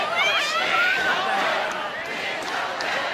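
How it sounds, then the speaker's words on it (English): Badminton crowd at the All England Open in 2012 cheering and chanting a Malaysian star player's name, a dense, steady roar of many voices with shouted calls rising over it throughout. "Well, the crowd's still chanting his name."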